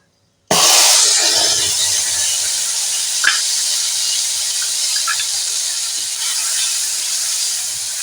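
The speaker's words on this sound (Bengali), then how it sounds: "এবার দিয়ে দেব এতে ফোড়ন পাঁচ ফোড়ন জিরে কাঁচা লঙ্কাটাকেও ভেজে নেব" Panch phoron, cumin and green chilli hit hot oil with a sudden loud crackle, then settle into a steady sizzling hiss. A single sharp pop stands out midway. No one speaks.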